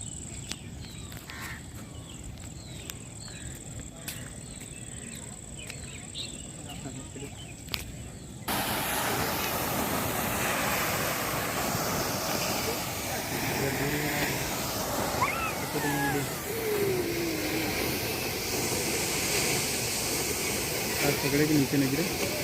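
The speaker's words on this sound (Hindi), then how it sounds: "देखिए आप लोग कैसे झरना गिर रहा है" A waterfall at a Lucknow park pours as a loud, continuous broadband rush that begins abruptly partway through, after a quieter stretch with insect chirring and voices talking over it.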